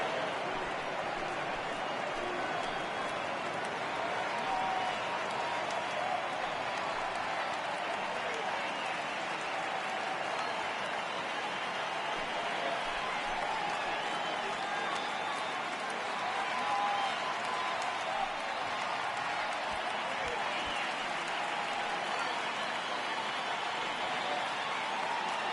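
A stadium crowd of over 36,000 in the MLB The Show 18 baseball video game, Arizona at the New York Mets, a steady dense roar of cheering and applause that holds even and unbroken throughout.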